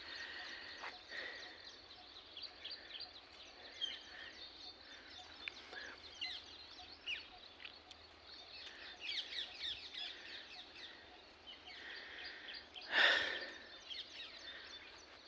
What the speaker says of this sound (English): These birds are just squeezing my all of energy.